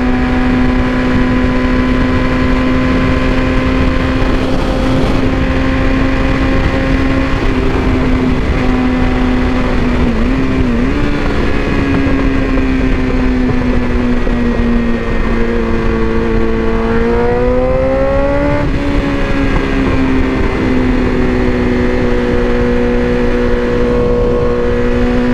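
A BMW S1000RR sport motorcycle's exhaust drones steadily and loud while riding in traffic, its pitch dipping and rising through a couple of gear changes as the bike accelerates, with no talking.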